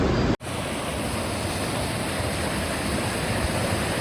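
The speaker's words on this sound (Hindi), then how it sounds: "ये पानी की स्ट्रीम" A mountain stream on the Bali Pass trek rushes in a steady, loud, broadband wash of flowing water, continuous after a brief dropout near the start, with no voices.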